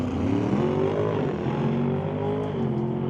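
A hot rod race car engine drones at a distance, its pitch climbing and dropping as it shifts through the gears during a circuit race, a steady mid-level roar with no talk.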